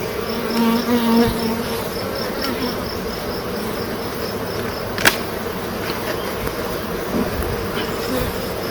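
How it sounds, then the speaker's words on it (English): Honey bees hum steadily around an opened hive in hot summer sun, a dense continuous buzz with a brief sharp knock partway through and no voices. "these bees have done a great job keeping it cool in the honey, making sure the wax don't melt"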